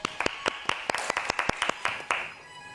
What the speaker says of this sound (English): Qhobeleni izandla.